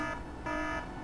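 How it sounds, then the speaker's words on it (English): Alarm in the stealth video game Trilby: The Art of Theft, a loud buzzing electronic tone that pulses in two short bursts with a brief dip between them. "Triggered the same alarm"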